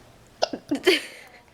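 A young child hiccups at close range, a few short sharp catches in quick succession with no other sound around them.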